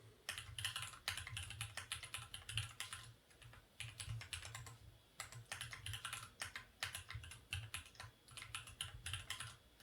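Someone types a password on a computer keyboard during account setup, producing steady, quick clusters of soft key clicks with brief pauses, heard close and alone.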